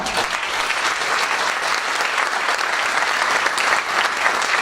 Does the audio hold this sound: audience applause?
yes